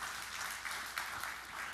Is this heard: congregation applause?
yes